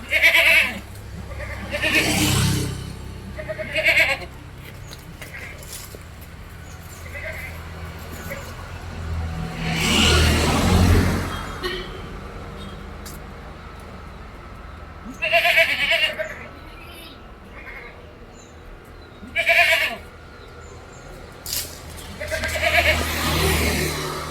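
Dairy goats bleat repeatedly in loud, separate calls spaced a few seconds apart, with quieter farmyard background between them.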